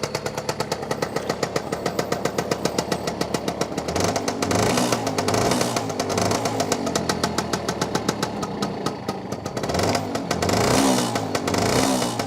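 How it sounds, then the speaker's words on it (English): A classic two-stroke motorbike engine, kick-started from cold, runs close by with a steady buzzing beat and repeated throttle blips that swell and fall, with no talking. "Nice sounding 2-stroke motor."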